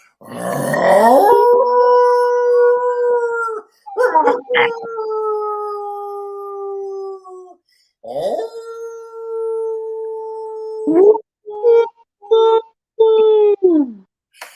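A man imitates a wolf howl with his voice in long sustained, wavering tones, several drawn-out calls separated by pauses, close and loud, with no other sound behind them.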